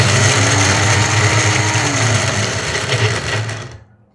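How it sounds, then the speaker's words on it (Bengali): An electric blender grinds peanuts into protein powder with a loud, steady high-pitched motor whir close by, cutting off abruptly near the end. "ব্লেন্ড করব আর হচ্ছে বন্ধ করব তা না হলে তেল ছেড়ে দিবে বাদামে থেকে তেল বের হয়ে আসবে"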